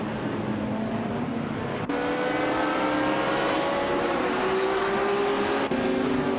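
Racing car engines in a video game, including a 1970 Ferrari 512 Codalunga, drone steadily with rising and shifting pitch as the cars accelerate through gear changes, loud and continuous with no talk.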